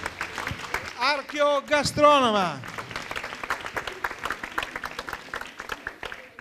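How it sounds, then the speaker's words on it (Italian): Studio audience applause at an Italian TV show, with scattered clapping that continues under a loud host's voice and sustains after the talking drops off. "Un applauso ragazzi alla nostra"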